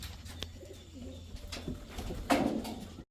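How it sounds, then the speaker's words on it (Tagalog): Pigeons coo softly in a garden setting at Po Mu Sapa in Vietnam, a few low throaty calls over a quiet background, with one louder burst near the end. "Ayan yan mga kalapati."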